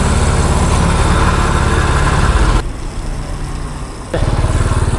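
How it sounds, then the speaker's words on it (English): A 50-year-old Honda enduro motorcycle engine idles steadily up close, a loud even low thump that drops briefly quieter for over a second before returning to full strength. "And it just idles beautifully."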